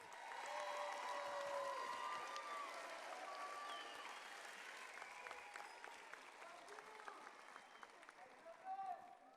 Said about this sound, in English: Let's give our fifth graders a collective round of applause for their hard work.